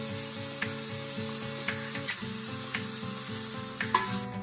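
Chopped tomato frying in a pan makes a steady, close sizzle with occasional sharp pops and stirring scrapes, while a low tonal hum drones in the background.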